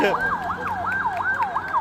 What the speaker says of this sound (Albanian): protestuesit e hapin rrugën që të kalojë ambulanca